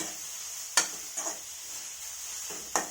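Grated carrots frying in ghee in a pan for carrot halwa, a steady soft sizzle with a few sharp scraping stir strokes against the pan at irregular moments, close and fairly quiet, with no talking.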